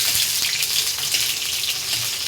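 Eggplant pieces frying in hot oil, a loud, steady, close crackling sizzle that fills the whole stretch without pause and with no voices.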